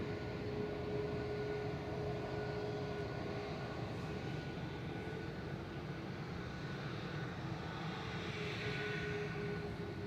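A Lufthansa airliner arrives from Munich at Manchester Airport with a distant, steady engine rumble that stays faint and even throughout, with no voices.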